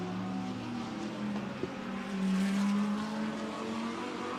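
An Allied Racing Porsche GT race car in Fanatec GT World Challenge Europe free practice at Valencia, its engine droning steadily with sustained tonal revs as it drives through turns, fairly distant with track ambience.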